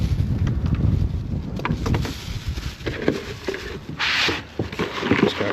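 Strong wind gusting outdoors in a vegetable garden, buffeting the microphone with a steady low roar and rushing bursts throughout, plus a few faint rustles and scrapes.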